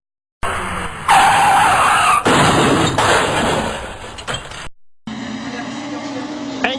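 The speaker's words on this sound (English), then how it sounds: "Engstler blindsided around the blind corner, hits the safety car." Race car at a touring car event slamming into the safety car on a blind corner: loud engine roar with skidding tyre noise and a heavy impact, followed by a duller, lower engine drone as a commentator talks over it.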